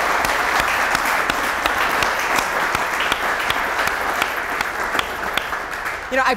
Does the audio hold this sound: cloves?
no